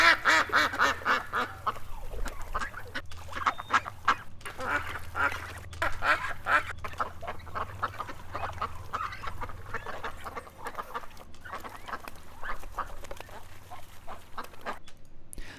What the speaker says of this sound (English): This is some bird ambience from who knows where.